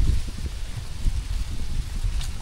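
Steady outdoor wind buffets the microphone with a low rumble and faint rustle, continuous and fairly close throughout, with no talking.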